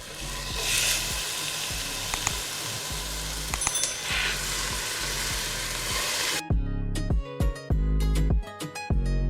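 Tomatoes fry in a pan for a stuffed capsicum filling, a steady sizzle under rhythmic low thumps of background music that turn louder and more prominent near the end.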